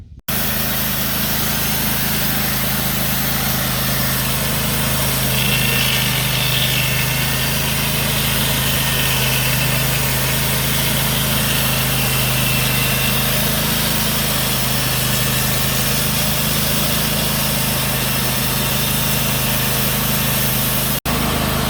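A Cooks MP32 sawmill engine runs steadily and loudly while cutting a log, a constant droning hum with no pauses and a sudden cutoff right at the end.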